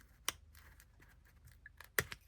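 Small scissors snipping paper, two sharp, crisp cuts with faint rustling between them, heard quietly and close with no talking.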